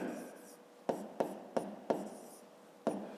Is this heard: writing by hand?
yes